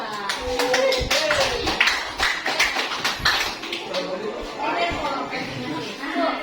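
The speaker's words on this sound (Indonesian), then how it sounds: "tepuk tangan untuk kelompok 2" A classroom group gives a short burst of clapping for a student team, uneven hand claps over lively chatter and a speaking voice.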